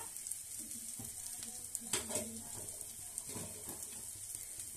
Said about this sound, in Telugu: అల్లం వెల్లుల్లి పేస్ట్ పచ్చిమిర్చి పేస్ట్ మంచిగా ఫ్రై అయిపోవాలి